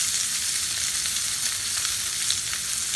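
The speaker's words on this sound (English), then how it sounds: "So you're going to flip it over and brown it the other side" A steak sears in a very hot skillet after being flipped, giving a loud, steady, close sizzle that holds without a break throughout.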